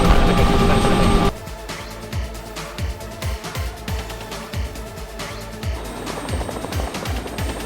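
Helicopter in flight heard from on board, a steady rhythmic rotor thumping with engine whine, close and continuous, after a brief louder rush at the start.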